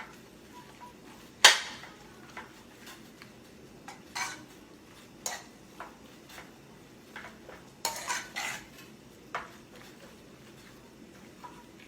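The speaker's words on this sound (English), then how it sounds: "Give that a nice stir" Korean seaweed soup with garlic, potato and sesame oil being stirred in a pot, scattered metallic clinks and scrapes of a utensil against the pot over a quiet background, some sharper knocks among them.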